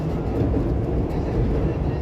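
An Argo passenger train crosses the Serayu bridge, heard from inside as a brief, steady low rumble with rolling noise, fairly loud and close.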